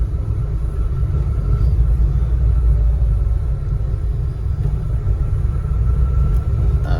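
A Peugeot 206's engine idles steadily with a constant low rumble and mild vibration, heard close up and unbroken, with no talk over it.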